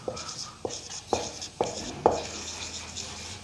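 Marker or chalk writing on a board during an English grammar lesson, a run of five short scratchy strokes with sharp onsets spaced about half a second apart, close and fairly clear.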